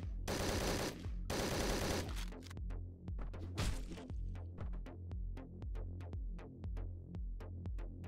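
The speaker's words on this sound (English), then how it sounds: "There's a guy firing ammo over here." Rapid automatic gunfire from the video game Hotline Miami 2, opening with two dense, loud bursts, then a steady stream of sharp individual shots at a quick even pace that continues to the end.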